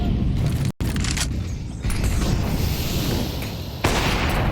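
Counter-Strike gunfire on the Inferno map during a pro match, with dense bursts of rifle shots and booms, a brief dropout, then continued shooting.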